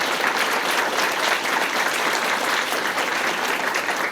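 Audience applause at a scholarship ceremony, a dense, steady wash of many hands clapping at close range for the full stretch, loud and even with no talk over it.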